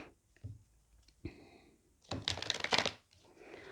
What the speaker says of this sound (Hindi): ओके गाइस, पहले अच्छे से शफल कर लेती हूँ।